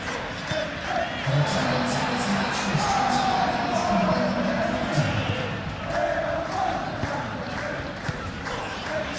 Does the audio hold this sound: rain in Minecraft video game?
no